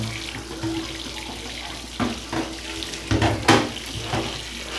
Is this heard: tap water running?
yes